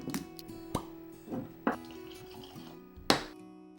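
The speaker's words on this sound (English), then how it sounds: "so let's give it a pour" Whisky, a 47.1% single malt finished in corn bourbon casks, glugs from the bottle into a glass in a few close plopping, dripping bursts, with no talk.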